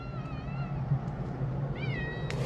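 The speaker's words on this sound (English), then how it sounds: "Cat. There's a cat." A cat meows twice during an outdoor RV livestream, soft rising calls with a short pause between, over a steady low background hum.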